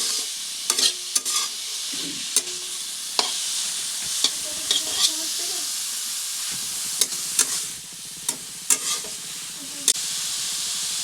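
A vegetable chop mixture sizzles in a pan with a steady hiss, broken by repeated sharp scrapes and clacks of a spatula stirring it close by.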